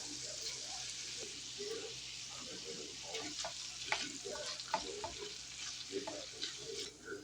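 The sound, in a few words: spinach frying in a pan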